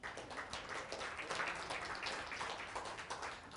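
Dinner-party audience applauding after a call to clap during Thanksgiving and Christmas turkey dinner speeches, a steady wash of many hands clapping at moderate distance, continuous and fairly faint throughout.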